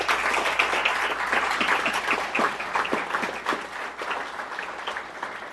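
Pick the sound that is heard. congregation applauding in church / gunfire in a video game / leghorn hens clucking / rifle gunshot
congregation applauding in church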